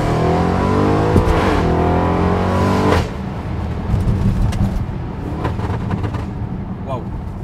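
An Audi RS3 accelerating hard with a rising engine note for about three seconds, then settling into a rougher, lower rumble as it keeps driving, loud and close.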